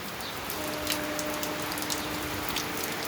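Steady rain falls in a continuous soft hiss, with scattered drops pattering on a surface, even and moderately quiet throughout.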